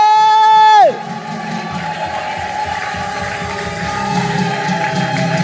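A high, wavering ululation rings out briefly before a large congregation at a Christ The King Church service breaks into loud, sustained cheering and shouting that fills the rest of the moment.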